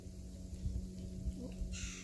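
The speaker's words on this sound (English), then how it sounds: "What kind of bird is that? I think it's a grackle." A grackle calls outdoors, a brief harsh caw-like squawk at moderate distance over a steady low hum and background noise.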